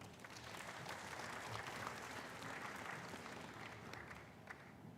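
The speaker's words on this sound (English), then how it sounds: "give a big round of applause for these two presenters" Applause from a conference audience at a Sri Lanka Navy logistics conference in Trincomalee, honouring two presenters: a steady, fairly faint wash of many hands clapping that continues for several seconds.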